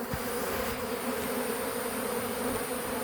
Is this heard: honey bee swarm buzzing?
yes